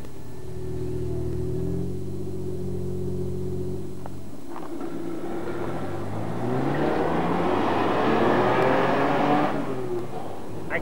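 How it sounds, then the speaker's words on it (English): Citroën XM V6 saloon accelerating hard on the road, the engine note climbing through rising revs with a gear change midway, then swelling louder and whooshing toward the end. "Accelerating hard in the V6 reveals the performance potential."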